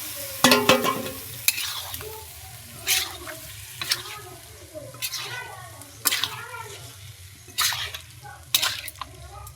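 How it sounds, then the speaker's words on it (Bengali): Spiced jackfruit and boiled potato stirred in a pan, a spoon scraping in repeated strokes every second or so over a soft, steady sizzle, close and moderately loud. "সব কিছু আবারও খুব ভালো করে মিশিয়ে নিচ্ছি।"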